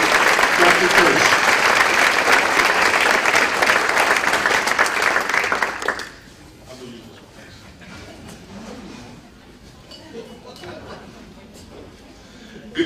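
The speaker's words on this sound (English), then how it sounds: "Round of applause for Doug." An audience at a high school Ring of Honor ceremony breaks into loud, sustained applause for about six seconds, which then fades into a quieter room with scattered voices.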